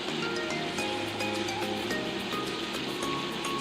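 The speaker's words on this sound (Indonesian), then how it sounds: "Nyalakan keran." Water runs steadily from a tap during handwashing, a continuous broadband rush heard alone and close for the full length.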